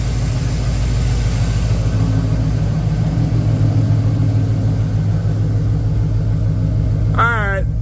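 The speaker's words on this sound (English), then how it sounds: "Exhaust is gonna sound sweet with a cam in it." A Camaro SS V8 idles with a deep, steady exhaust rumble, loud and close, holding an even throb throughout before a brief chirp near the end.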